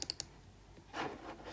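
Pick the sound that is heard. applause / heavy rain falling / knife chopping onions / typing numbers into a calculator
typing numbers into a calculator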